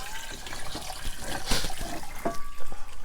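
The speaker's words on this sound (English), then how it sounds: "So now I'm going to add my water." Water pours into a cooking pot on a stove while a shrimp seafood boil is being prepared, a loud, close splashing stream that continues throughout with no talking.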